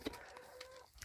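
Hens clucking in a coop beside a small garden, a few short clucks and a drawn-out tonal call, close by and fairly quiet with no talking.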